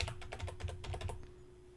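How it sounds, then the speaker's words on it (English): A rapid burst of keystrokes on a computer keyboard, about eight crisp close clicks in quick succession, then a quiet pause. "I'm going to type in Portfolio."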